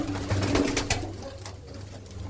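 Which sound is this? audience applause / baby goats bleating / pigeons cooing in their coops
pigeons cooing in their coops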